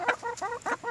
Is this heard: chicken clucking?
yes